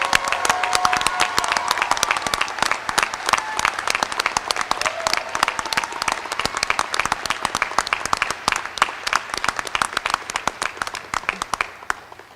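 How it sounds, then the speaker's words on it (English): A commencement audience gives graduates one last round of applause, a loud, sustained crowd clapping with crisp individual claps standing out, continuing at full strength before thinning slightly at the end. "join me in one last round of applause for these"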